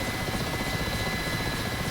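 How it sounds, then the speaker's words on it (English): A heavily loaded Mi-8 helicopter in the DCS World flight simulator roars with a steady, dense rotor and turbine drone, loud and continuous, with no voices. "all of a sudden, this helicopter is a hell of a lot heavier"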